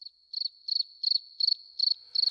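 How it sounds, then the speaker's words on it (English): Crickets chirp in steady, evenly spaced pulsed bursts, clear and isolated against silence. "I heard nothing but crickets."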